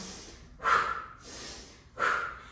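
Two forceful blown exhales, a breathing exercise done through a rounded mouth, each a breathy rushing whoosh, close to the microphone, with quieter inhales between them.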